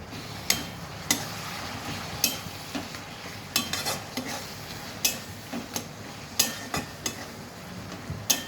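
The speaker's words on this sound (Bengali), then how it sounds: "আর জিরে, ধনে, আদা বাটা দিয়ে সব মশলা ভালো করে কষাবো" Spices with cumin, coriander and ginger paste frying in a pan for an egg curry, a steady low sizzle broken by sharp clicks and scrapes of a spatula every second or so.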